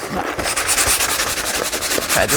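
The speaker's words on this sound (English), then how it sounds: "Sanding." Sandpaper rubs back and forth across the edge of a handmade hard cover notebook in quick, regular strokes, close and loud, with an even scratchy rhythm and no talking.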